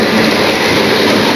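Model railway trains running on a home layout, including steam models, give a steady close rolling clatter of wheels on track throughout, loud and continuous with no talk.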